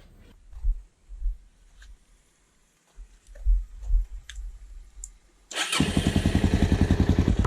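A rebuilt Suzuki DRZ motorcycle engine kicks into life after a few quiet knocks and handling sounds, then runs loud and close at a steady, throbbing idle.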